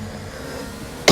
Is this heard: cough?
yes